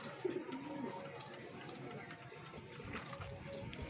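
Racing pigeons coo softly in a loft, low throaty calls repeating at close range with a murmur of other birds behind.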